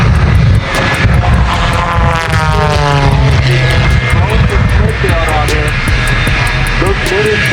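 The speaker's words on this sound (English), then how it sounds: "The power is this custom-built 57 Chevy jet truck." A custom-built 1957 Chevy jet truck powered by two Westinghouse jet engines at an air show, a loud continuous jet roar with shifting whining tones over steady low rumble, with a clicking pattern overhead.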